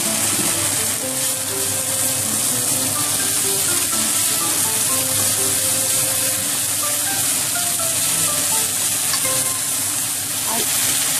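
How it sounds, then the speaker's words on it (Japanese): Bacon fries in a pan with garlic and devil's claw chili, a loud, dense and constant sizzle and crackle running unbroken throughout, close up. "ここにベーコンガガッと入れます。"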